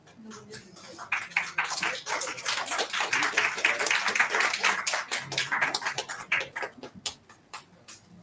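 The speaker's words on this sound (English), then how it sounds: "Please give a round of applause." An audience at an academic event applauds a guest, a burst of many hands clapping that swells and then thins into scattered claps, with some voices mixed in.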